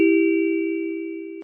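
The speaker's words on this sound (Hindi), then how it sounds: "घर की घंटी बज" A house doorbell rings once with a clear sustained electronic chime tone that holds steady and slowly fades, loud and alone with no talking.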